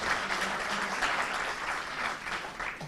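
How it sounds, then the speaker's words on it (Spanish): Faint, steady applause from a seminar audience for a panel on hate speech regulation, a continuous patter of many hands clapping throughout with no talk. "Un fuerte aplauso para el panel y muchísimas gracias."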